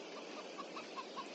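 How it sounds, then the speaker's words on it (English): Chickens in the Farming Simulator 22 video game cluck softly in a steady series of short, evenly spaced notes over a constant hiss-like ambient bed, faint and alone. "So the poor old chickens, they sound happy enough, but they can't be too happy without any food."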